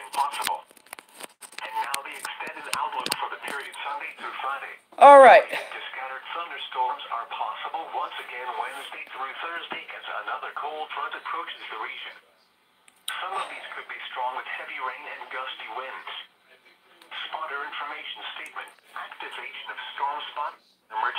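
A band-limited radio broadcast carrying storm spotting information plays for about twenty seconds, with a voice talking steadily through a narrow, tinny channel broken by brief gaps and one sharp burst of static.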